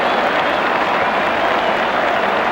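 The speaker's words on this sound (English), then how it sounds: "McCosker's gone, and the crowd, the jubilant crowd," At a 1975 Cricket World Cup match, a jubilant stadium crowd applauds after a wicket falls, a dense, loud, continuous wash of clapping with no voices standing out.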